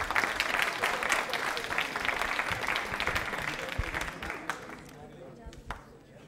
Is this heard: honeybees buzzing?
no